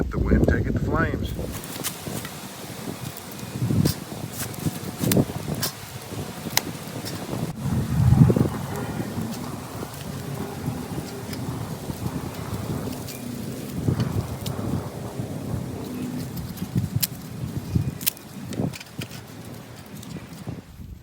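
Outdoor wind buffets and rumbles steadily while a survival fire is being lit with an empty BIC lighter, a low continuous roar with occasional stronger gusts and faint knocks.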